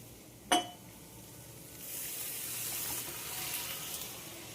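Water is poured into a pan of cauliflower cooking in a home kitchen. A single sharp clink comes first, then a steady hissing sizzle that starts and continues to the end, moderately quiet, with no talking.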